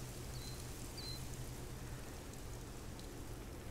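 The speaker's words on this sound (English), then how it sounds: "the rain." Steady rain in the hunting game theHunter: Call of the Wild, a soft even hiss of falling drops with a low continuous hum beneath and a couple of faint high chirps.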